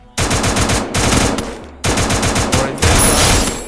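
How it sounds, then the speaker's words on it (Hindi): Rapid automatic gunfire from the Free Fire battle royale game comes in loud, close bursts, three long strings of shots separated by brief pauses, with no voices. "मैंने हेडशॉट मार दिया है, अच्छा खासा हेडशॉट पड़ा भाई"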